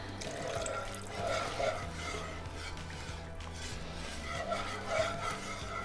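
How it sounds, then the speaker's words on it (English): Chicken broth pours in a steady, trickling stream into a pan of gravy for chicken pot pie, a soft, continuous liquid splash with faint clinks of cookware and no talking. "we're going to add our chicken broth as well"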